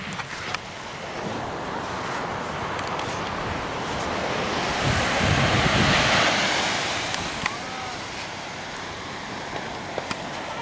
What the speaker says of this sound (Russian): Такой океан и такой пляж.